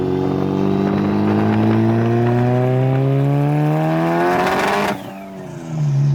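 A Mitsubishi Evo 8 on a test drive: the engine revs loud and close through a rising gear, drops off abruptly near the end, then picks up again, with no talking.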